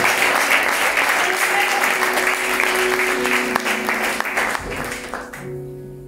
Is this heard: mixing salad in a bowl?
no